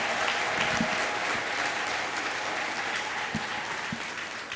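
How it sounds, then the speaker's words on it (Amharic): A church congregation claps for the Lord during a prophet's worship service, a steady, dense wash of applause that fills the room at a constant level throughout, with a few louder individual claps standing out. "እስቲ ለጌታ አጨብጭቡ።"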